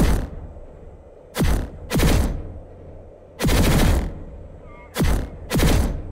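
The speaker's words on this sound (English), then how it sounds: "The noises that the grenade emits are the standard unsilenced carbine noise" A PlanetSide 2 infiltrator decoy grenade emits sporadic bursts of unsilenced carbine gunfire: six loud, separate volleys of rapid shots, some short and some longer, with quiet gaps between them.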